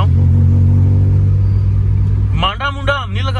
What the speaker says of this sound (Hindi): गाड़ी का इंशाल्लाह साउंड सुनाता हूँ